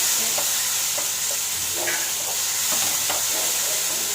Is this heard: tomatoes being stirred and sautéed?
yes